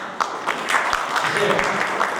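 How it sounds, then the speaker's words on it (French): Audience applause at a French ceremony honouring an employee, a steady patter of clapping heard at moderate distance that continues throughout the moment. "On applaudit encore une fois."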